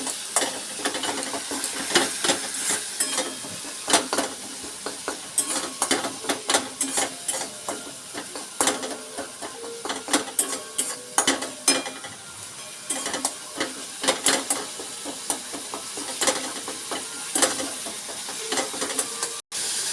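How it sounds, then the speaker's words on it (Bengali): Tomato, cumin, coriander and chili powder frying in a pan, stirred constantly: a spatula scrapes and clicks against the metal in an irregular rhythm over a continuous close sizzle, with no talking. "টমেটোটি নেড়ে এতে জিরে গুঁড়ো, ধনে গুঁড়ো, লঙ্কার গুঁড়ো ঢেলে দেওয়া হলো। দিয়ে এবার নাড়ানো হচ্ছে।"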